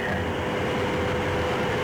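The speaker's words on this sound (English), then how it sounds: "I don't know whether you can see the train going across it or not" A steady, continuous train rumble with a faint high whine rolls on throughout as a train crosses a railway bridge in England or Scotland, sounding at a moderate distance.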